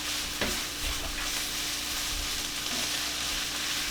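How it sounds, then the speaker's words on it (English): Garlic frying in a pan crackles with a constant close sizzle, while a utensil gives a quick stir with a couple of soft scraping knocks. "Give this a quick stir."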